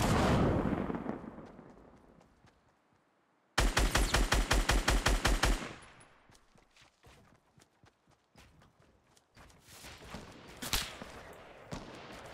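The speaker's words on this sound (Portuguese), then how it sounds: "Tem gente atirando em mim por trás." Gunfire in a Fortnite match: a loud shot fades, then a rapid burst of automatic fire rings out up close, followed by scattered distant shots and footsteps.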